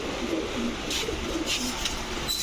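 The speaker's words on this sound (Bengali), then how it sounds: "রাজশাহী থেকে আনা যে কবুতরটা" Pigeons at a Bangladeshi pigeon farm housing racer, Giribaz and fancy breeds, giving soft low coos in a steady background murmur with faint higher rustles over a short stretch.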